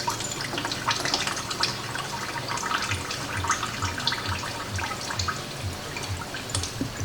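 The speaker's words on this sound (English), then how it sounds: "A nice, lovely coolant waterfall." Coolant pours and splashes steadily from a classic Mini's radiator for several seconds, a continuous trickling stream with scattered drips, close by.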